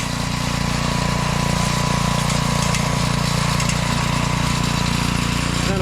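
A walk-behind field and brush mower running on an overgrown trail: a loud, steady engine drone with a throbbing low pulse and constant mechanical clatter, with no pauses.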